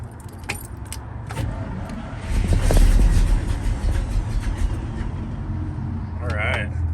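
GMC 7000 boom truck with a 366 big block engine turning over on the starter and catching into a rough, loud idle up close, with a brief voice near the end.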